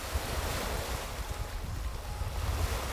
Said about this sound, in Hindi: उस पानी में मूवमेंट देखिए कितनी है, ये समंदर नहीं है इट्स अ लेक